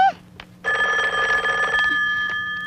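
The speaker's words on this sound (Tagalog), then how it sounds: "Bakit hindi mo sinasagot itong telepono?" A telephone ringing loudly and close in a steady trilling bell tone that runs for about two seconds, preceded by a brief voice.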